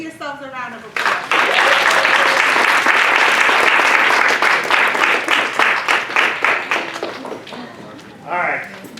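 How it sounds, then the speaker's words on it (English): Loud, sustained applause from a large audience fills most of the clip, with a voice briefly heard at the start and end. "Give yourselves a round of applause."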